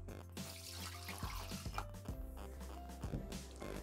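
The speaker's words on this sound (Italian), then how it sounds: "Iniziamo la ricetta mettendo all'interno del boccale l'acqua" Tap water runs into a Thermomix TM6 mixing bowl for a potato tart, a steady splashing, gurgling stream lasting a few seconds with a low hum of kitchen noise underneath.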